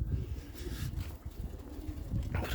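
Soft pigeon cooing, a few low throaty coos repeating close by at a quiet level, with faint background noise.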